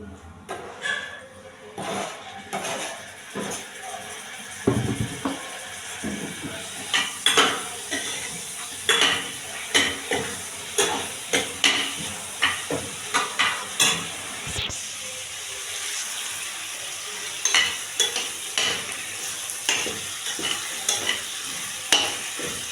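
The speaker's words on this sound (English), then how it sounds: "I'm going to add it into the pan so that it can fry with the onions and the meat" Grated tomato frying with onions and beef in a pan makes a continuous sizzle, broken by repeated sharp scrapes and clinks of a spoon stirring against the metal pan at an irregular rhythm, up close with no voices.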